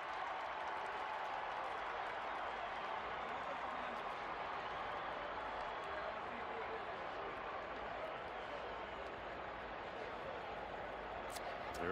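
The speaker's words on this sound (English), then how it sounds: "Alabama getting the crowd incited" A stadium crowd roars at a college football game between Alabama and Florida, a continuous, distant wash of cheering and noise that stays steady under the broadcast, with a commentator's voice over it.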